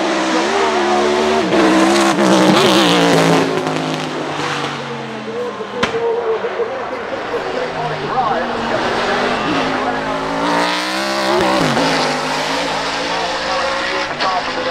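A 1995 Ford Roush Mustang GTS-1 Trans-Am race car drives by at Festival of Speed, its loud engine roaring and shifting pitch steadily throughout, with a commentator's voice running underneath.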